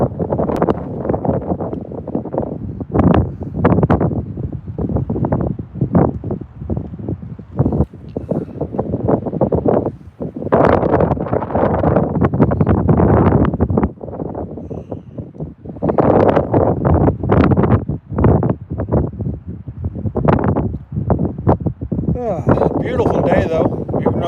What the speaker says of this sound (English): Beautiful day though, even though it's windy